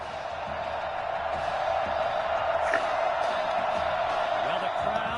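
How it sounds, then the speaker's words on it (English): A large stadium crowd in Madden NFL 21 roars and cheers in a continuous wash of noise, with scattered shouts rising above it at moderate distance. "the crowd is loud and on its feet as Alan Myers gets things started."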